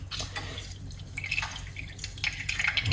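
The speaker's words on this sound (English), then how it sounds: "squeeze out that lemon" Lemon juice dripping and trickling into a glass of warm water at a kitchen sink, a close, soft patter of small drips with light splashes over about three seconds.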